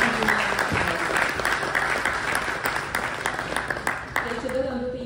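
Steady applause from an audience at the official groundbreaking ceremony for a factory construction program in Włocławek, with a voice speaking over the clapping near the end.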